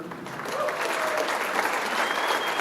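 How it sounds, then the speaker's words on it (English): A crowd at a business excellence awards ceremony claps loudly and steadily for the Chamber, its board and the diplomats, a sustained even wash of applause. "a big round of applause again for the Chamber, including the Board of Directors and the diplomats"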